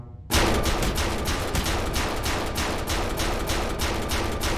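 A ceiling turret in People Playground opens fire abruptly after a moment of quiet, spraying a loud, fast, steady burst of automatic shots that continues without pause.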